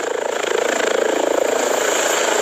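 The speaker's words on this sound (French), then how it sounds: "nous nous rendons dans le parc en hélicoptère" A helicopter flies close and loud, its rotor chopping in a fast steady pulse over a broad whine of engine noise.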